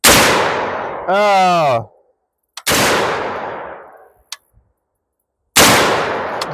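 A budget .50 caliber AR-15 rifle firing outdoors: three loud, booming shots with long decaying echoes, spaced a couple of seconds apart, and a person speaking briefly between shots.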